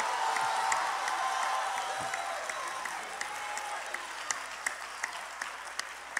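A church congregation applauds during a sermon, a continuous wash of clapping with a few sharper individual claps, heard moderately far off.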